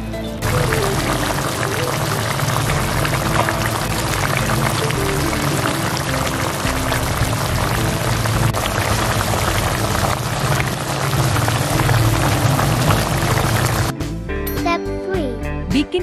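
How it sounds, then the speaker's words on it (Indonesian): Water pours steadily into a pot for soto ayam broth, 2500 ml in a continuous loud splashing stream that runs for about fourteen seconds before stopping, followed by a few light clinks. "Masukkan air 2500 ml."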